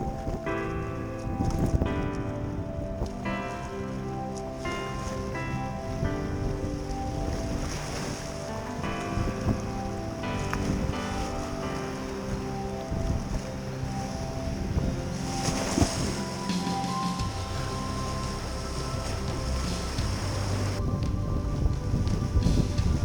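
River water rushes through Flat Canyon Rapid in Desolation Canyon beneath a packraft, a close, constant churning roar with splashing and buffeting wind, loud and unbroken throughout with no speech.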